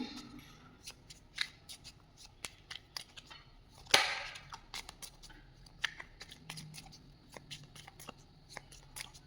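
Tarot cards shuffled and handled close up, a series of quick crisp riffles and taps with one louder flurry, otherwise quiet between the strokes.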